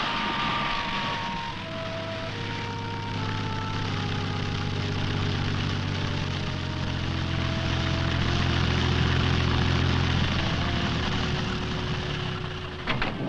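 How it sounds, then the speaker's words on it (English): A propeller plane drones steadily overhead over the Rupununi, its engine note holding a low hum with slowly shifting tones, loud and continuous with no talking. "No wonder he needs a plane to get around."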